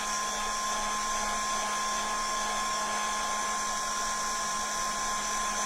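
A hair dryer blows steadily and close by to dry a box covered in tissue paper, an even whirring hum with a high tonal whine that holds unchanged from start to finish with no talk.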